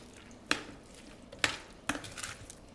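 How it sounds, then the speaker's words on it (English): Vegan potato salad with vegan mayonnaise being mixed in a bowl, three distinct wet clacks of a utensil against the dish with soft squishing between, close and without talk. "we're going to mix it."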